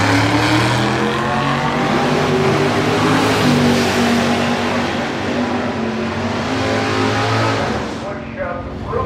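A 1963 Plymouth Fury with a 524 cubic inch engine roars loud and close during a nostalgia drag race, the engine note sustained and harsh throughout before easing off near the end, with an announcer talking over it.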